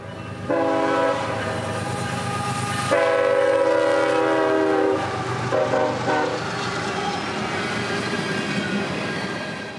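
A CSX freight train rumbles past close by, its horn sounding in long blasts over the steady roll of wheels, with faint squealing.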